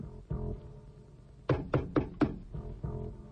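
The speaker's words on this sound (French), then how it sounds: "Voici la porte. Je vais frapper." Four sharp knocks on a door ring out in quick succession, clear and near, set among softer low thumps.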